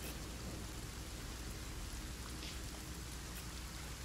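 Steady rain in the fantasy role-playing game Divinity: Original Sin, a constant hissing downpour with no breaks and no voices.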